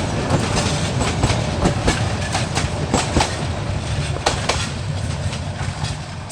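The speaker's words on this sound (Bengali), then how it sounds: "আন্তনগর ট্রেন।" A Bangladeshi intercity train runs on its rails with a steady, loud rumble and a repeating clickety-clack of wheels over the joints, continuous throughout with no voices.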